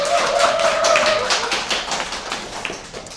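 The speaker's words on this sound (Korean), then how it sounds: "큰 박수로 맞이해 주시기 바랍니다" An audience claps steadily for about three seconds in a welcoming round of applause at a business networking meeting, dense and even with no voices.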